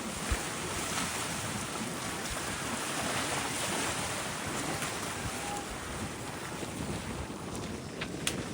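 Strong wind buffets the microphone over the rush of waves against a sailboat heading into Miracle Bay, a dense steady roar with occasional thumps.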